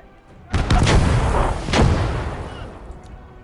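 Artillery pieces fire in a World War II tactical video game, two loud close booms about a second apart, each with a rumbling tail that slowly fades.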